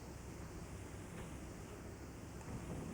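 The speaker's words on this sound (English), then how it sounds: "the most meaningful is the revealed sound of the sea" Sea waves roll against the shore in a steady, faint wash of rumble and hiss that swells slightly toward the end, with no voices.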